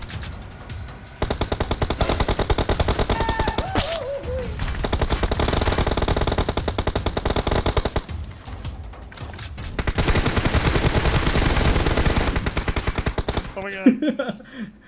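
Rapid bursts of automatic gunfire from the video game PUBG Mobile, loud and dense for several seconds, then a short lull before another sustained volley, and a few sharp shots near the end.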